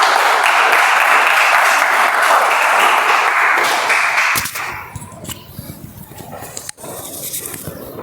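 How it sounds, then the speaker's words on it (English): Applause from a Toastmasters meeting audience as a member is called to the stage, several seconds of steady clapping that cuts off midway, leaving room noise and a few small knocks. "I would like to call with huge round of applause Toastmaster Vibha onto the stage,"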